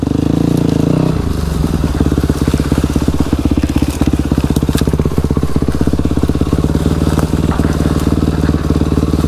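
A VRR dual sport motorcycle rides off-road, its engine loud and close with a dense, steady rattling pulse after a brief softer start, clatter and crunching from the rough ground mixed in throughout.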